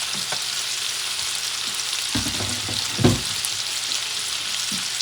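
Squid and shrimp frying in a pan, a loud continuous sizzle with a few soft knocks and scrapes of a utensil against the pan.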